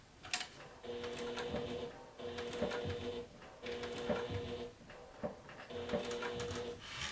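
A sewing machine stitching in short rhythmic bursts, with brief pauses between runs, close and fairly steady; a few faint clicks mark the stops.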